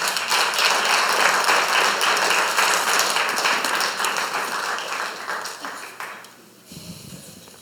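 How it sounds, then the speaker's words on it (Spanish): A church congregation applauds during a sermon, a bright scatter of many hands clapping that stays busy, then thins and drops away near the end to quieter low sound. "Dale un aplauso al Señor"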